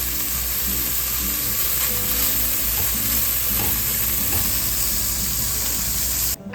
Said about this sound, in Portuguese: Nós vamos fritar o bacon, depois nós vamos reservar.